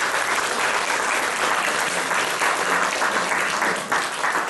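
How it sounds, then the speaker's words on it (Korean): Audience applause welcoming new students at a Methodist seminary entrance ceremony in a church, dense and steady clapping from a large crowd lasting throughout. "박수로 환영해 주시기 바랍니다"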